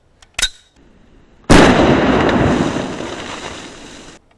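A single shot from a .50 AE Desert Eagle handgun fired at an outdoor range, a loud, sharp blast with a long rolling echo that fades over a few seconds, preceded by a small click-like pop.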